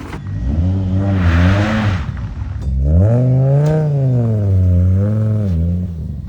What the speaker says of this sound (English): This is a 1000 horsepower Golf